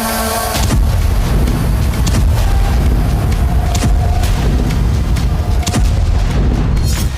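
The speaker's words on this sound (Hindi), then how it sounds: "मॉस्को में एक के बाद एक कई धमाके हुए।" Explosions in Moscow, a factory caught in the blasts: loud, continuous booming and rumbling with repeated heavy thuds and bursts, dense and close, no voices.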